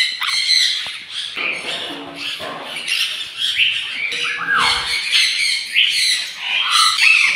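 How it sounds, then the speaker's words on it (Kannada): A macaw at a resort lets out loud, harsh squawks in close succession, raspy and piercing, with scattered softer chirps between the calls. "ನನ್ನ ಡ್ರೀಮ್ ಬರ್ಡ್ ಮ್ಯಾಕಾವೋ, ಅದನ್ನ ಟಚ್ ಮಾಡಿ ತುಂಬ ಇಷ್ಟ ಆಯಿತು."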